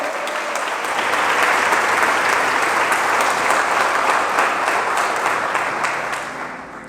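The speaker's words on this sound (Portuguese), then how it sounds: "Então aplauda o Senhor se você crê." A church congregation applauds steadily and loudly after being called to praise, the clapping swelling quickly, holding dense and even for several seconds, then thinning toward the end.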